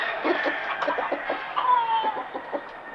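A chicken clucks repeatedly in short, close, rhythmic bursts, with no other voices.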